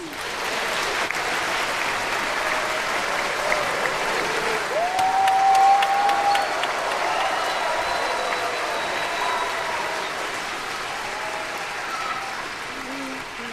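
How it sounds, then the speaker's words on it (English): Warm, sustained audience applause welcoming a choir in a large hall, a broad steady roar of clapping from many people that stays even throughout, with faint crowd noise underneath. "let's welcome Ricky Beckwith and the Agape International Choir with a warm round of applause"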